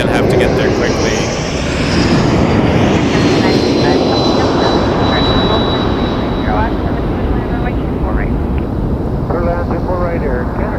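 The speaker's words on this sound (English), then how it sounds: "Embraer 195 Porter coming around 120." A Porter Embraer 195 jet airliner passes at Toronto Pearson airport with a loud, sustained engine roar and a high whining tone that slowly falls in pitch, and voices can be heard faintly beneath it.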